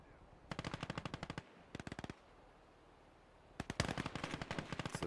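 Machine gun fire in the WWII strategy game Gates of Hell: Ostfront, loud, rapid bursts of automatic shots in three strings separated by a short gap, with a longer, denser burst at the end.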